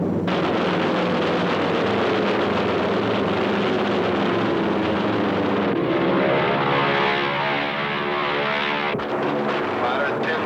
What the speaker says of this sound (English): Planes, 9 o'clock, coming around.